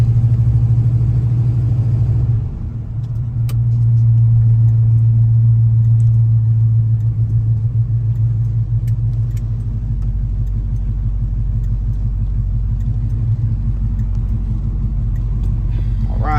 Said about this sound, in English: All right, here we go for the drive. Here we go for the test drive.